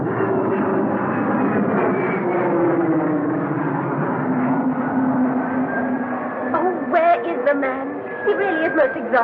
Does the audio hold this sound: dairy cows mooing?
no